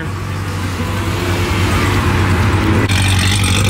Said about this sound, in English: Old Porsche rolling out over here.